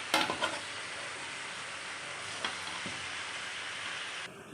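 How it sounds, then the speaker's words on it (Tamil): Chicken chukka masala sizzles quietly in a pan as it is stirred, with a few scraping strokes near the start and occasional soft clinks over a steady low frying hiss. No one speaks. "நல்லா மிக்ஸ் பண்ணிடலாம்."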